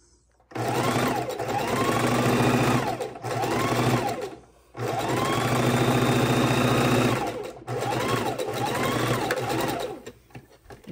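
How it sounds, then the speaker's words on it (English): A sewing machine back stitches across a quilt block, three loud close bursts of rapid whirring separated by short stops, the motor pitch rising and falling as it reverses. "I'm going to do a quick back stitch at the top just to lock it in."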